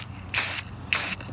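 A spray paint can fires two short, light bursts at close range onto a resin art lazy Susan set on an old bucket stand. Each bright hiss lasts about a quarter second, separated by a brief pause.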